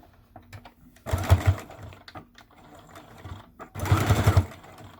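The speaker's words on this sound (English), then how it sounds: "Let's sew across, back and forth." A sewing machine stitching back and forth across a fabric strap on a wristlet, two loud bursts of rapid mechanical whirring separated by a quiet pause with small handling clicks.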